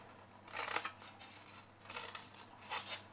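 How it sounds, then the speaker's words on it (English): Scissors cutting paper to shape a small tab on a paper gift box, a few soft, close snips in two or three short bursts, quiet and crisp. "So cut down and then trim it and create a little tab."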